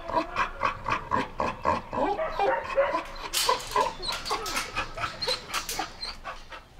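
A pitbull in a shelter pants rapidly and steadily throughout, close and moderately loud, with rhythmic breathy huffs and a few brief vocal noises mixed in.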